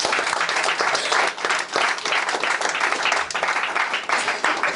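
Church congregation applauding at the close of a prayer service, a dense, loud, continuous wash of many hands clapping with uneven surges, close and sustained.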